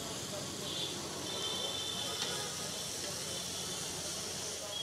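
Butter sizzles on a pav bhaji griddle at a Patna street food stall, giving a steady, unbroken hiss that holds at an even level throughout without pauses.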